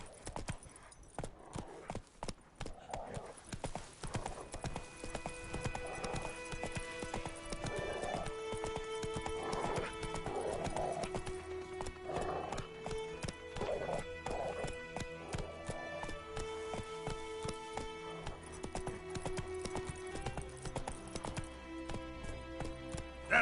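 Geralt's horse Roach galloping in The Witcher 3: a long, steady run of rhythmic hoofbeats close by, with an occasional whinny and game music playing underneath.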